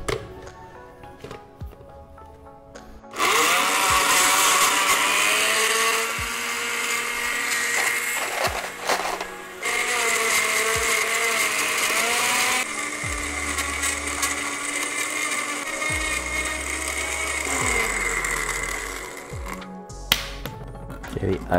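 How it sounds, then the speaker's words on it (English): A home blender crushes regular cube ice for a banana-grape daiquiri, a loud steady whirring grind in long bursts with short pauses between them, and the motor note shifting as the ice breaks up. "Let me start blending it."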